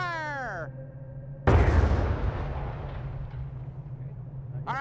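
Demolition blast set off by blasters: a sudden loud boom that erupts and then rolls on as a long rumbling decay of debris, preceded by a voice and a low steady hum, with another voice starting near the end.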